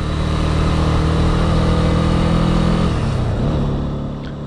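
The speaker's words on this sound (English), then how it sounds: "I hope you've enjoyed this short ride on the Honda CB300R" A 2019 Honda CB300R motorcycle is ridden, its engine droning steadily and loudly with wind rush before easing off as the revs drop near the end.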